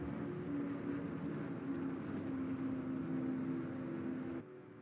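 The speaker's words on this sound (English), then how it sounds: "As the field revs their engines, ready to get back going green here." A pack of race cars idles and revs behind the pace car during a caution at an oval stock-car race. A continuous, moderately distant engine drone hums and wavers, then drops off slightly at the end.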